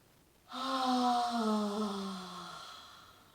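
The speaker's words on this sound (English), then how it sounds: "take a big deep breath in, full belly. And out." One long, deep breath is let out slowly as a soft voiced sigh, close and quiet, after a brief silence.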